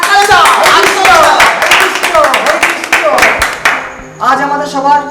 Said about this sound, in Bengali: এই হাততালি দাও, হাততালি দাও, হাততালি দাও।